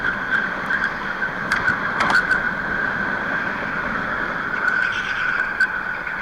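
Go-kart rear tyres squeal through a slide at a national karting final, a steady high-pitched screech held over the continuous drone of the kart engine from start to finish.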